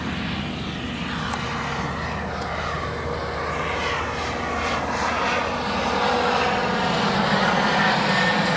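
Airplane engines roar at O'Hare airport, a loud, steady drone that swells gradually as the aircraft draws nearer, heard on its own without talk.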